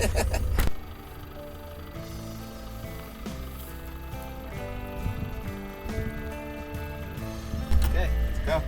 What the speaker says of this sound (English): Welcome to the world of Land Rover. No, the V8 sound.